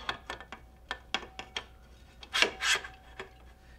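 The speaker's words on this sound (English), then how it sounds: "I push this little button here so that I can slide this in." A camera quick-release plate slides into the tripod head's mount, giving a run of short scraping and rubbing clicks that build to two louder rasps near the end, close and alone.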